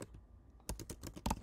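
Keys clack on a computer keyboard in a short, quiet burst of several quick taps after a near-silent start.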